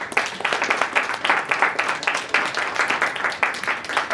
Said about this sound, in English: a round of applause for all of those excellent questions and interactions